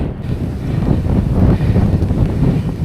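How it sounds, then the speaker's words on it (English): Strong headwind buffets the microphone of a moving cyclist, producing a continuous loud, low rumbling roar that swells and dips slightly throughout, with no voices. "I can confirm I've hit the headwind"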